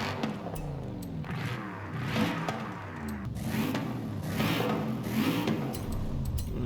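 An AMG wagon engine in Forza Horizon 5 revs and accelerates in repeated swelling pulls, the tone climbing and dropping through gear changes at close range with no talk.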